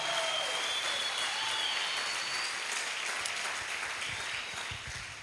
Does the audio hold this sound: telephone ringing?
no